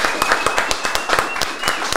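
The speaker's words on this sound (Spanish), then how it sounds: "Familia, un aplauso aquí para él de Rayán." Applause in a podcast studio from a small group, sharp individual claps in an uneven, fairly quick rhythm, close and clear, with a faint high tone lingering underneath.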